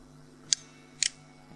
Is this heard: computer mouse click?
yes